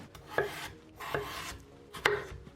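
Three firm knife strikes chopping peeled potatoes into large chunks on a cutting board, close and clear, spaced about a second apart with no talking.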